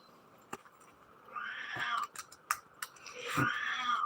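A cat meowing indoors, two drawn-out wheezy meows separated by a few soft clicks and rustles, fairly close and otherwise quiet.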